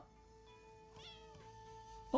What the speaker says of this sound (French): Il y a des chats dans ma maison.